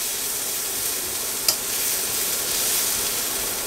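Onions browning in a pan alongside bacon for a mussel dish, a steady, fairly loud sizzling hiss with one brief scrape of stirring midway.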